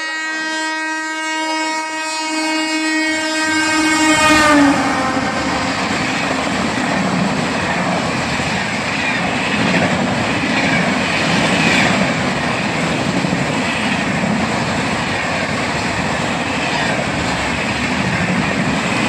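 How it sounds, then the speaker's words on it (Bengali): Passenger train pulling into a station in heavy rain, opening with a long loud horn blast, then a sustained roar of rumbling wheels and carriages passing close by. "অনেকক্ষণ অপেক্ষা করার পর ফাইনালি ট্রেনের দেখা পেলাম"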